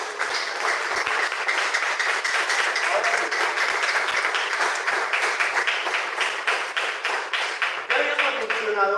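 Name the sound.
congregation applause in church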